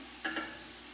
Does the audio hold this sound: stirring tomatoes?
yes